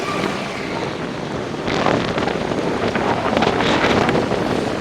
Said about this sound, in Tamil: என்ன காற்று அடிக்கிற சவுண்டை கேளுங்க